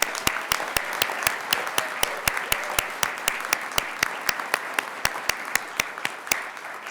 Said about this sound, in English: Let's please one more round of applause for our graduates